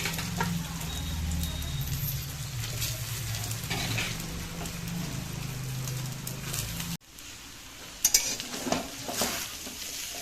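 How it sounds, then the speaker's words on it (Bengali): Rice being stirred into minced meat frying in a wok, giving a steady close sizzle with scraping stirs that pause briefly, then return with a few louder clanks of the spatula. "রাইসটা দিয়ে ভালোভাবে একটু হালকা হালকা হাতে নাড়িয়ে নিতে হবে"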